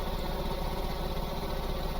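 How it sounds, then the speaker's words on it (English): A boat engine fitted with a wet exhaust runs in the Stormworks video game, giving a steady, close, continuous droning rumble with no breaks. "I also put a wet exhaust in, Joe, since you were making fun of smokestac"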